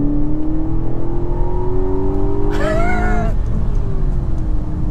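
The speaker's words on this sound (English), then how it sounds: "the way this car picks up is remarkable. And it doesn't seem to be fighting any weight. It just takes off and goes." An Aston Martin DBX SUV accelerates hard, its loud, close engine drone climbing steadily in pitch, with a brief higher whine rising over it partway through.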